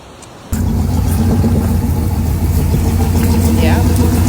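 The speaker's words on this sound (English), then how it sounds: "Yeah, that's a fire truck." A fire truck engine idles close by with a steady low rumble that cuts in abruptly after a brief quieter moment, during a flash flood in San Angelo, Texas.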